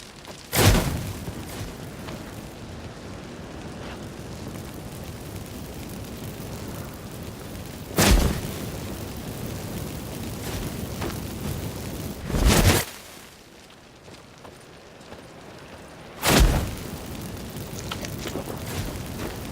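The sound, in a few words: shack burning and exploding in The Witcher 3 video game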